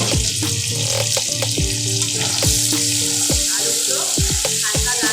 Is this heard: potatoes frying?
yes